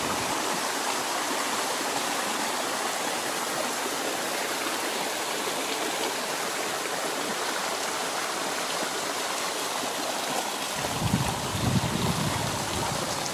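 Water rushes steadily along a wooden flume with a dense, even hiss, and a deeper gurgle joins near the end.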